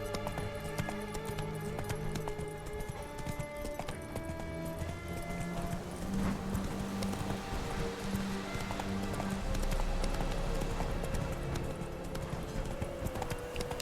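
Roach the horse gallops in The Witcher 3 video game, hooves drumming in a quick, steady rhythm at close range with game music playing underneath.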